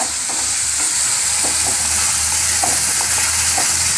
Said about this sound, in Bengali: পেঁয়াজ রসুন বাটা আর চাল মগজ বাটাটা যখন ফ্রাই হয়ে যাবে ভালো করে